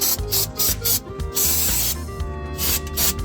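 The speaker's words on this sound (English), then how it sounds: "we're gonna go in here with some just basic brake cleaner." Brake cleaner hisses from an aerosol can onto an Isuzu NPR dump truck engine in short repeated bursts, close and fairly loud, with brief pauses between sprays.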